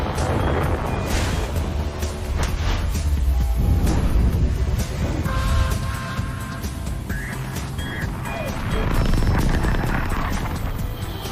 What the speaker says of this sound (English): liftoff of Falcon 9